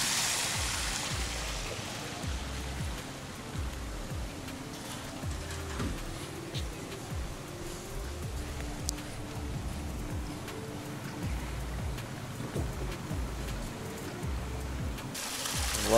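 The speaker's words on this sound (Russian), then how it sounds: "Водопады." Continuous rushing water from small cascades and streams at a sanatorium in Vitebsk Region, Belarus, a steady, fairly quiet splashing wash with no voices.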